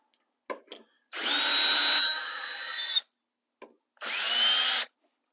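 A power drill backing screws out of old 4x8 scenery panels held together with screws: two loud, close bursts of whirring, the first about two seconds long and dropping in pitch partway, the second shorter, with a few clicks of handling between.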